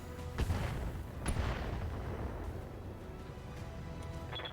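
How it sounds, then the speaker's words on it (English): Booming mortar fire during a BattleTech tabletop session set in 3062, with two heavy thuds early on over a constant rumbling background and no talk. "That's a mortar. That's a mortar."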